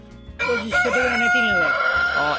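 A Brahma rooster crows loudly and close, one long drawn-out call rising over a background of clucking Brahma chickens on a farm.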